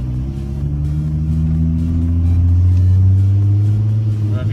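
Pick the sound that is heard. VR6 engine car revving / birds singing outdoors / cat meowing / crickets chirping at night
VR6 engine car revving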